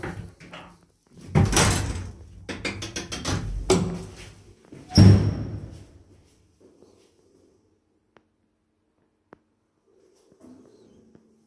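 Elevator doors in a modernized lift in Kraków, recently replaced with new Krak-Dźwig doors, rumble and thud open and shut in a few loud sliding strokes, then fall to near silence with faint clicks.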